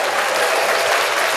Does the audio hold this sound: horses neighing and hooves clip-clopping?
no